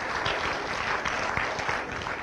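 An audience at a youth poetry contest in Menlo Park claps in a brief, dense burst of applause that stays at a steady level throughout.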